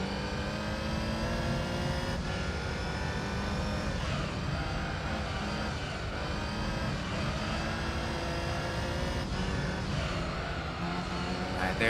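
A Toyota Supra engine in Gran Turismo 3, racing and revving with repeated gear-change dips and rising pitch sweeps, loud and continuous, with no voices.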